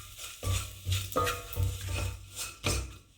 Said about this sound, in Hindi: अब हम इसमें फिर से 1 टेबल स्पून घी डालेंगे और इसमें डाल देंगे हम ग्रेटेड कोकोनट और इसे भी हम हल्का सा भून लेंगे